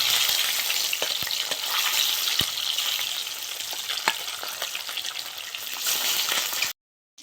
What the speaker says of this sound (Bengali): সবগুলো তুলে নিয়েছি, মাছগুলো আমি একইভাবে ভেজে নেব